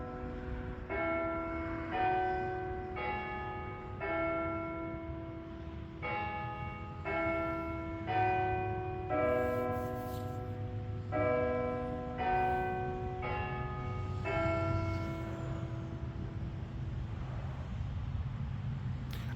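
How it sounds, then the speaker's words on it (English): Church bells ring across Christina Cemetery in Salisbury, North Carolina, a steady run of clear pealing strikes at moderate distance over faint traffic hum, continuing for the whole stretch. "I love hearing the bells, the church bells."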